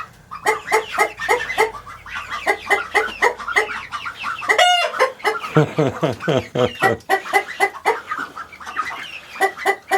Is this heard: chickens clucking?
yes